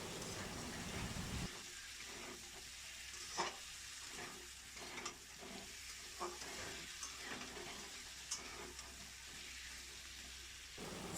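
Potato curry (aloo dum) stirred and fried with spices and oil in a pan, giving a steady close sizzle broken by irregular utensil scrapes and knocks, with no talking.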